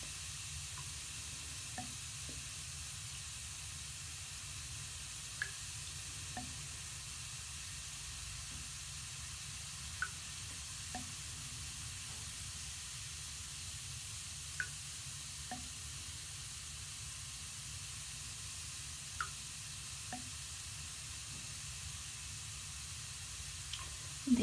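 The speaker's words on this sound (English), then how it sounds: "These obviously are just a fizzing balm." Monster eye bath bomb fizzing balm dissolving in water, a soft steady fizz and hiss with faint scattered pops and crackles throughout, quiet and close, with no voices.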